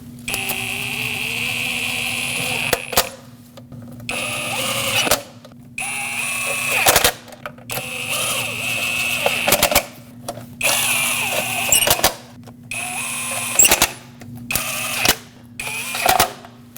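Power tool snugging solenoid bolts on a 2006-2015 Lexus IS250 engine, repeated short whirring bursts separated by pauses, close and fairly loud over a steady low hum.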